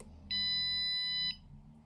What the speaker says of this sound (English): It beeped pretty quickly.